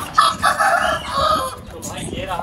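An Aseel fighter rooster crows loudly and close, with a drawn-out call followed by short clucks, on a nearby farm.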